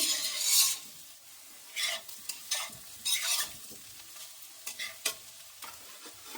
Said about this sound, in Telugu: కారం వేసుకొని బాగా కలుపుకొని స్టవ్ ఆఫ్ చేసుకోవడమేనండి.